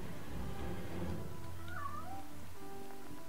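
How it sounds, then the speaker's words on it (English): A cat meows in The Long Reach video game, a clear wavering cry in the middle over a low background hum, heard on its own without talk. "Is that cat?"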